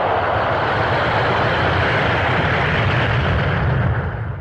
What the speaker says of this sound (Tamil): அதான் பிளைட் போயிடுச்சுல